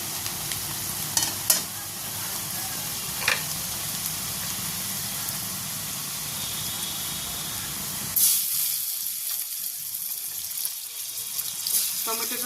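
Tomato and lightly browned onion fry in a pan for a Bengali-style fish dish, giving a steady sizzle with occasional stirring scrapes and clinks that turns quieter and sparser partway through.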